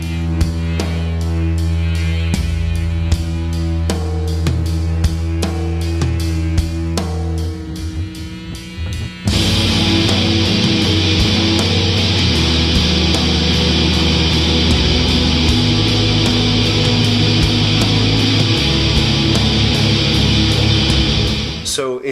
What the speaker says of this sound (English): So it just sounds like this cacophony of dying, conflicting, bending notes.